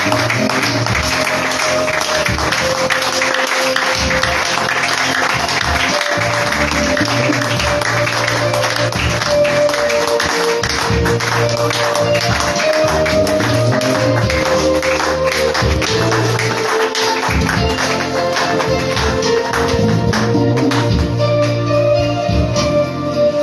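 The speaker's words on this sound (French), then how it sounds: "Et nous allons l'accueillir par les acclamations." A church congregation applauds and acclaims to welcome an evangelist, steady clapping running for over twenty seconds beneath loud worship music.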